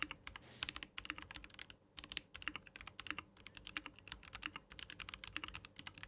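Rapid, continuous typing on a clicky mechanical keyboard, crisp close-up key clicks in quick irregular runs with only brief pauses.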